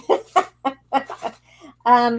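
Chickens cluck in a series of short, close bursts, ending in a longer, louder squawk.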